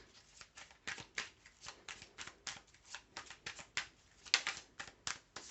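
Light Years Tarot cards are shuffled and drawn in quick, soft crisp rustles and flicks, close and quiet, in an irregular rhythm of short bursts.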